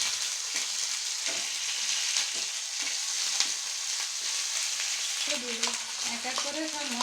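Ginger, cumin and garlic pastes fry in a pan with a steady, close sizzle and occasional stirring scrapes, continuing evenly throughout with no talking.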